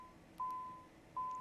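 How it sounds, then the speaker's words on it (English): Cockpit alarm in a Working Title CJ4 business jet in Microsoft Flight Simulator 2020, sounding as two steady electronic beep tones, each about three quarters of a second long, repeating clearly over a quiet background. "I'll get rid of that alarm in just a second."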